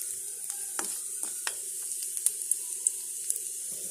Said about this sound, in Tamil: இது லைட்டா பொன்னிறமா ஃப்ரை பண்ணா போதும்